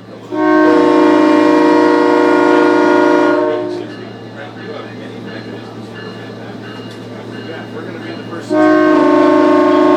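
A loud SMART commuter train horn blasts for a few seconds in Santa Rosa, followed by the rumble and clatter of the passing train, then the horn sounds again.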